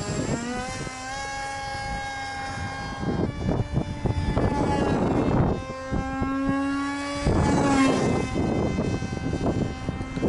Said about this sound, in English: All right, the plane is doing really well with the 1800 battery.